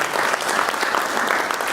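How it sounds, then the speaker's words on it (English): An audience at a live panel talk on media bias claps together in a dense, steady burst of applause, close and loud for a couple of seconds. "Can we all just give a big round of applause?"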